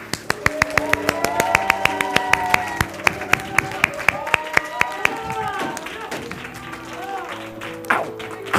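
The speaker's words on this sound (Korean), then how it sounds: "우리 환호와 박수로 함께 분위기를 좀 올려봅시다" A church youth group breaks into clapping and cheering, a ragged patter of hands with shouts over music, the applause thinning out after several seconds.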